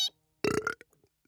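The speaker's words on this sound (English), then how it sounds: "just practicing for the next burping tournament." A cartoon robot character lets out a loud, gravelly burp while practicing for a burping tournament, one short blast followed by a few faint trailing gurgles.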